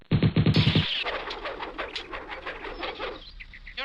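A bird coos in a live-action Dragonball movie scene, with a short burst of loud rhythmic cooing at the start, then fading into a noisy, washy background of effects and music.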